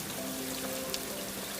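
Heavy rain pours in a steady, dense hiss that stays even throughout, with no voices over it.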